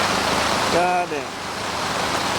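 Heavy rain pouring down outdoors during an airsoft game, a dense loud hiss of falling water with a brief voice-like tonal sound partway through.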